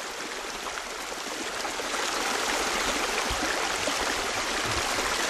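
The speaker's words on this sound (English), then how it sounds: "A little stream, you could really hear it though, up there." A small runoff stream on the Paskapoo Slopes trickles in a constant, even wash of water, close and unbroken, with no one speaking.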